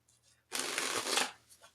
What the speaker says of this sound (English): And give it a couple more shuffles here.